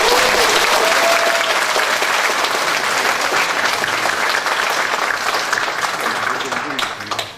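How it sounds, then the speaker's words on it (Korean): Audience at a political event in Mokpo applauds steadily, a dense, loud wash of clapping that holds for several seconds and then begins to taper off at the end. "한번 박수 보내주시기 바랍니다."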